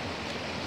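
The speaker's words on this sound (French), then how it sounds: "Je parle un peu fort à cause du bruit des cascades" Roaring cascades close by, a steady dense wash of falling water filling the whole short stretch with no gaps and no voices.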